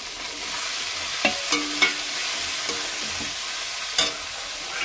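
Chili, capsicum, ginger and tomato fry in a pan with a steady, fairly loud sizzle, broken by a few sharp clinks and scrapes as a spoon stirs them, with no voices.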